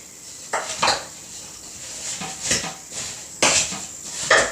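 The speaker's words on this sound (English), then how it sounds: "we're going to go ahead and stir it all up" Apple pear sauce is stirred in a crock pot, with a spoon knocking and scraping against the pot in uneven bursts. The strokes are close and moderately loud over a quiet background, with no talking.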